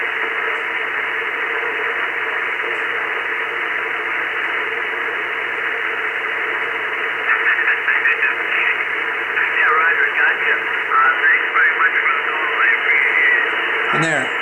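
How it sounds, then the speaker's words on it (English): Loud, constant white-noise static from a TenTec Orion II Model 566 radio receiver with noise reduction off, a voice breaking through in the second half, garbled and chirpy. "you hear a lot more white noise because the the noise has come up on the floor"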